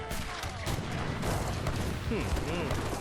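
French artillery cannons fire in an Age of Empires III battle against Indian forces, a dense run of booms and crashes layered over continuous battle noise, with a voice talking throughout.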